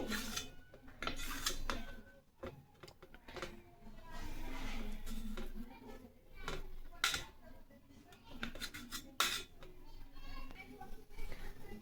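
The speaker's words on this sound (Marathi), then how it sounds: "आता आपण या बट्ट्यांचे बारीक काप करून घेऊ" Steamed dal batti dumplings being cut into thin slices with a knife: a run of sharp, close clicks and taps of the blade against the board, uneven in rhythm, with soft rubbing between strokes and faint voices in the background.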